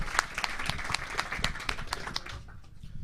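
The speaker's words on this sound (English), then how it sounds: "A real quick applause for OMG Chad putting this all together" A small convention-panel audience gives the production assistant a quick round of clapping, distinct individual claps audible within a modest burst that thins out and fades near the end.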